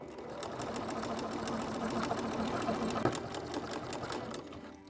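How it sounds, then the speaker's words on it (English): A sewing machine runs a basting stitch beside an invisible zipper, its rapid needle clatter continuous and close for a few seconds. "I am adding that basting stitch right now."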